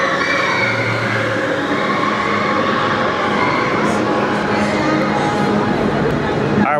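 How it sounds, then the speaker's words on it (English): A train at Magic Kingdom park in Walt Disney World, Florida rumbles past close by, loud and continuous throughout with a broad rushing roar, with faint crowd noise beneath. "I waited for the train to pass. I can't compete with that. That's too loud."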